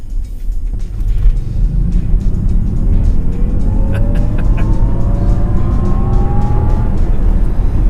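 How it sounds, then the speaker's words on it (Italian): An artificial rising engine whine builds steadily as a Jaguar I-Pace electric car accelerates, layered over loud road and motor rumble. "questa specie di finto rumore, come se volessero farti credere che stai guidando una macchina a benzina."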